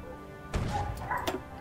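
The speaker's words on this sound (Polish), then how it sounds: "Co się tam odpalił, pies?" A dog barks sharply through an open door nearby, a sudden loud burst followed by a couple more yelping barks over a low background hum.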